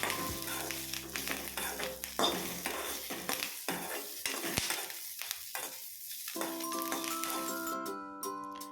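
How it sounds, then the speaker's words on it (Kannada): Bajji chillies and coriander leaves fry in a pan for a chutney, with a continuous crackling sizzle and stirring scrapes under steady background music. "ಇವೆಲ್ಲನೂ ಚೆನ್ನಾಗಿ ಫ್ರೈ ಮಾಡ್ಕೊತಾ ಇದ್ದೀನಿ"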